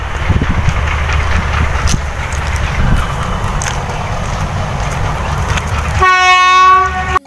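A train at Textile railway station rumbles loudly and steadily with rail clatter, then a strong, tonal horn blast sounds near the end.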